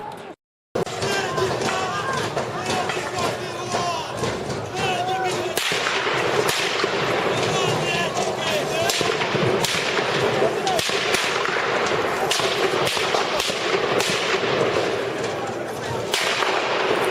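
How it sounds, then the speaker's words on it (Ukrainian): Repeated sharp gunshots crack out at irregular intervals over a noisy background, with voices heard in between, during the sniper shootings on the Maidan in Ukraine. "В цей час лунає постріл."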